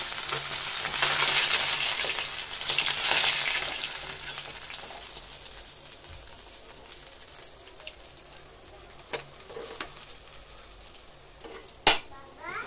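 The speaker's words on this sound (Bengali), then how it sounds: "চলো পেঁয়াজগুলো ভেজে নিই একই তেলে" Onions sizzle and crackle in the hot oil left from frying stingray, loud at first and then settling into a steady fry, with occasional stirring clinks.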